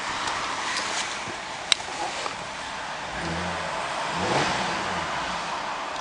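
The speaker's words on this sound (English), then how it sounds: "Jump in and give it a rev for you." Holden VE Commodore SV6 with the LY7 V6 engine, idling steadily and then revving up and easing back, heard fairly close and alone.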